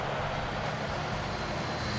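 A tractor engine drives steadily in Farming Simulator 22 on snowy ground, a continuous loud drone that holds constant throughout with no talk over it.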